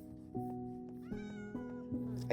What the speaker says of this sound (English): I hear a little cat outside.